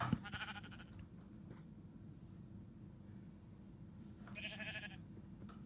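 Sheep bleat in the Minecraft video game, two separate nasal bleats, one at the start and one near the end, fairly faint over a quiet hiss.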